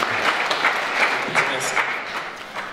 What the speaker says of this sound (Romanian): Și eu îi aplaud pe toți.